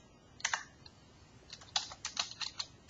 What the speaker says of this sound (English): I could simply type, basketball,